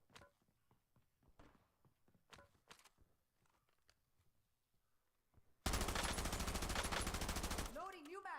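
Gunfire in a cursed T3 round of a shooter video game: scattered soft clicks and footsteps, then a sudden loud, sustained burst of rapid automatic fire that cuts off, followed by a rising electronic warble.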